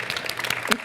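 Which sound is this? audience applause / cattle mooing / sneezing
audience applause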